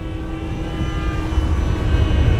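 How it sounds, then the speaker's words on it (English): A Hobbyking Yak 54 30ep 1280mm electric RC model airplane flying at full throttle, a loud steady motor and propeller drone that grows slightly stronger as it passes, with no talk. "Full throttle, Robert, full throttle."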